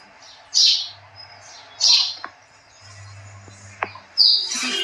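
Short bright house sparrow chirps repeat every second or so, near and clear, with a couple of faint taps and a low hum between calls.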